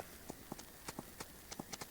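Soft, evenly paced horse hoof clip-clops in Farming Simulator 25, a steady series of light knocks over a quiet background hiss, fairly close.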